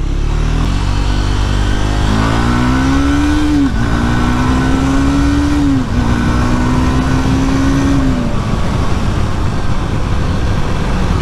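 A Triumph Scrambler 400X motorcycle engine revs repeatedly to high rpm, each rising whine dipping briefly between pulls, loud and close over a constant rush of wind and road noise.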